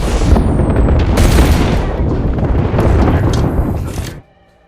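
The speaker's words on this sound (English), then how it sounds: "her ultimate ability is an artillery strike which she can call upon on her position, which will slowly come down with a lot of rockets" Artillery strike ultimate in Apex Legends, a barrage of rockets slamming down and exploding: a loud, dense, continuous roar of overlapping blasts and rumble that cuts off abruptly near the end.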